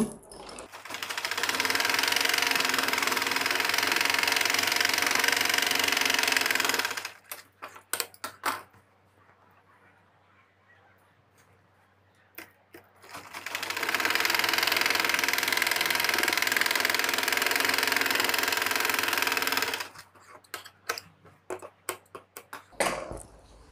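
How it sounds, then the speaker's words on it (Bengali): A sewing machine stitches the bottom hem of trouser legs, whirring steadily in two long runs of about seven seconds each, separated by a pause with faint handling noises. "এখন পায়ের নিচের সেলাইটা দিব আমরা"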